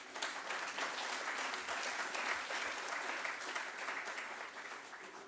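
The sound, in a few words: applause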